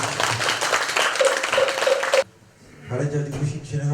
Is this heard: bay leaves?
no